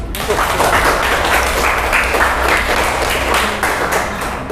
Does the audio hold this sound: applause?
yes